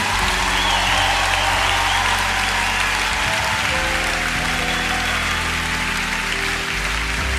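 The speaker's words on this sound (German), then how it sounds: "Can we give a clap to the Lord?" A church congregation claps for the Lord, a dense, steady wash of applause over a low droning organ or keyboard chord, continuous and fairly loud for about seven seconds with no break.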